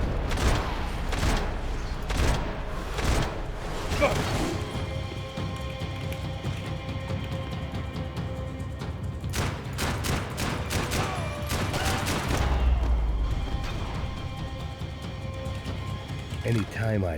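RPK light machine gun fire in Max Payne 3 comes as repeated loud automatic bursts and single cracks over a steady game backdrop, with voices underneath.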